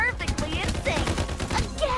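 Gunfire in the video game Farlight 84, with rapid bursts of shots layered with ringing game effects and pings. A player's voice is faintly present underneath.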